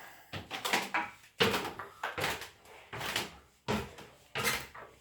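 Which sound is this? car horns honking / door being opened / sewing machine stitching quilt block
door being opened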